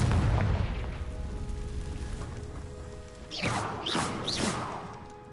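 A Confringo blast spell goes off in Hogwarts Legacy gameplay, with a rumbling low boom that fades into a sustained roar, then a cluster of sharp swooshing magical bursts near the end, loud and close.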